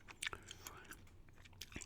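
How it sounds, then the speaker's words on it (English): Gum being chewed right up against the microphone in a quiet ASMR-style setting, giving soft, wet mouth clicks and small crunchy snaps scattered irregularly across a low, steady background. "just a gum chewing ramble."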